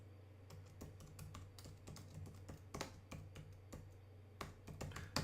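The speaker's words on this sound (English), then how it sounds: "Then I will type a title like I normally would." Typing on a computer keyboard while composing a forum post title about an MGB, with brisk, uneven bursts of close key clicks over a steady low hum, and no voices.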